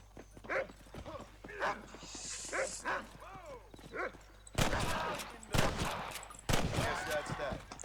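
Bursts of gunfire in the video game Red Dead Redemption crack in the second half, loud and sharp, after a stretch of quiet talking and clattering footsteps.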